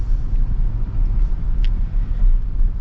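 A 2024 Toyota Tacoma TRD Off-Road Premium pulls away and drives, heard from inside as a steady low engine and road rumble with no voices, moderately loud and even throughout.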